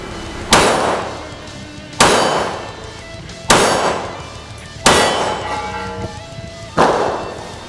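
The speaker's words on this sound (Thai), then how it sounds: "อันนี้ผมก็จะทำการยิงแบบต่อเนื่อง7นัดเฉยๆนะครับ" A Glock 19 Gen 5 pistol fitted with a Demon Arms compensator fires five loud, sharp reports about a second and a half apart, each trailing off in a ringing echo.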